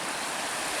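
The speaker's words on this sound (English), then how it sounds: "listen to the creek out here" A creek flowing outside a house up in a holler makes a brief, steady rush of broadband water noise, close and continuous, with no voices.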